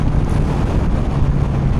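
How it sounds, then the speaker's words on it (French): Steady, heavy wind roar buffeting the microphone while riding a Kawasaki 900 Z SE motorcycle without a fairing, a dense low rumble that continues without a break throughout. "Il y a quand même une sacrée prise au vent, hein, sans carénage."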